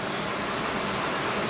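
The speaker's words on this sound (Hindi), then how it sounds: "अभी बारिश स्टार्ट हो चुकी है" Steady rain pours down on farm fields in India, a dense continuous hiss of drops hitting surfaces, with no voices.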